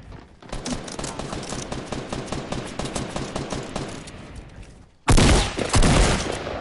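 A long, fast burst of automatic gunfire in a shooter game hammers away for several seconds, close and loud, then a short gap before a heavier, booming shot or two follows.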